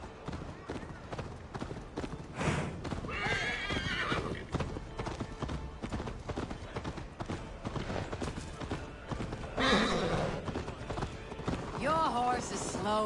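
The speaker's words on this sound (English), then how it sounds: "Best not fall off your horse." Hooves clatter in a fast galloping rhythm while horses whinny and neigh several times, with people talking over the hoofbeats, in the game Assassin's Creed Valhalla.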